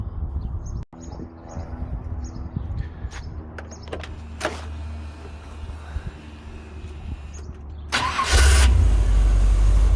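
A 1974 Chevrolet Corvette with a 454 LS4 V8, a new high-torque starter and a rebuilt Quadrajet carburetor, heard nearby: quiet mechanical clicks and whirring, then an abrupt loud, deep rumble as the engine catches near the end.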